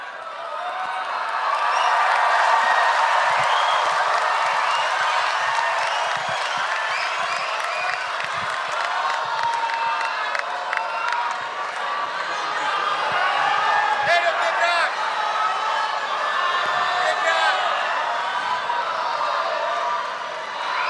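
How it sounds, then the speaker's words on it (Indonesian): An audience at a Prabowo-Gibran political rally applauds and cheers in a steady, dense wash of clapping and crowd noise that holds for the whole stretch, with occasional whoops and a voice speaking over it. "tepuk tangannya lebih meriah lagi"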